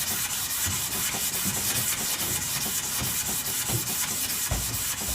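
Used 240 grit sandpaper rubbed by hand over wood while building a bass guitar, a close, loud, steady scratchy rasp in quick back-and-forth strokes, with no talking.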